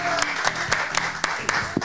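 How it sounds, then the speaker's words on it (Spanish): A small group of three people applauds at a Spanish-language talk event, sharp claps blending into a steady patter of light clapping that keeps going for about two seconds with a faint voice underneath. "Un aplauso, por favor."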